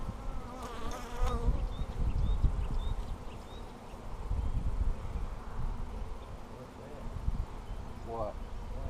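Honey bees buzz steadily around an open hive in a bee yard, a dense close-up drone of wings with brief rustling from the hive work and a voice talking over it.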